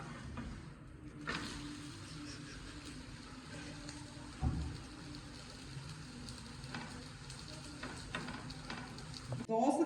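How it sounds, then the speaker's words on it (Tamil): Wheat dosa sizzles and fries steadily on a hot pan, a continuous close crackle with a few soft scraping knocks as it is flipped, no talking. "இப்போ தோசையை நல்லா திருப்பி போட்டுக்கலாம்"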